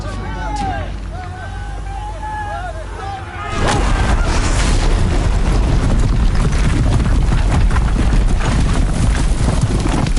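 In the Horizon video game, defensive guns open fire after a quieter stretch with voices, then keep up a loud, continuous barrage of heavy booming shots and chaotic battle noise.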